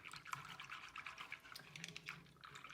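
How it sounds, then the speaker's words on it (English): A whisk stirs cinnamon into warm milk for Mexican-style hot chocolate, giving a quick run of soft, close liquid clinks and swishes with no talking. "I'm gonna go ahead and switch over to a whisk, and I'm just gonna push that cinnamon into the milk"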